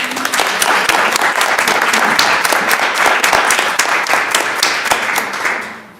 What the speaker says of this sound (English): We can give them a round of applause first.